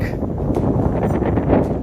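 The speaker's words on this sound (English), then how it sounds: "It's windy." Steady broadband wind buffeting the microphone outdoors at a spring carnival and expo, a constant low rumble and roar with no speech.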